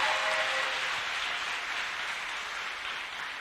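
A church congregation applauds steadily, a dense wash of clapping that holds for a few seconds and eases slightly toward the end, with no voices over it.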